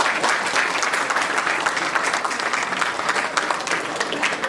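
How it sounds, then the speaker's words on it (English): A large audience at a regimental birthday celebration and annual get-together applauds loudly and steadily, with dense, sustained clapping that holds at even strength throughout. "could you give a huge round of applause?"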